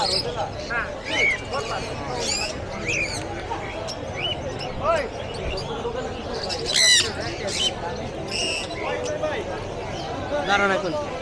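Crowded bird market in Mirpur, Dhaka, with many caged birds squawking and chirping in overlapping bursts close by, over constant crowd chatter and bustle.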